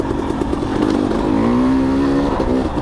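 A sport motorcycle on a sprint ride, shifted down into second gear without the clutch, its engine revving loudly and steadily up close with a rising tone and a brief dip near the end.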